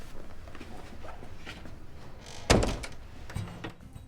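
A door is closed firmly with a single solid thunk partway through, after a quiet stretch of faint rustling and movement, followed by a softer knock shortly after.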